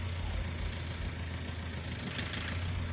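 A Hyundai Verna's engine idles in reverse gear after a gear-shifting repair, a faint steady low hum close by with a brief light clink near the end.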